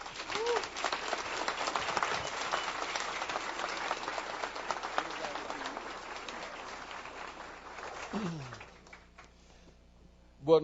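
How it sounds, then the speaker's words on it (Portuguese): Audience at an evening talk applauding in welcome, a sustained wash of clapping lasting several seconds before thinning out, with a voice briefly rising toward the end. "E vamos recebê-lo com um aplauso de boas-vindas."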